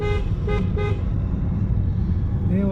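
Car interior while driving on a road to a hilltop temple, with a steady low engine and road rumble throughout and a few short horn toots from nearby traffic near the start and end.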